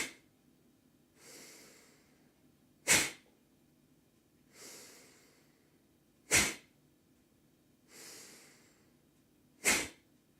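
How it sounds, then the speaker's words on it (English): Forceful breathing exercise: three cycles of a soft, drawn-out breath followed by a sharp, loud expulsion through the nose or mouth, evenly paced and close. "Some forceful breathing again."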